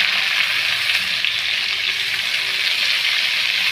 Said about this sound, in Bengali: এবার পেঁয়াজটাকে একটু হালকা করে ভাজা দিয়ে নেব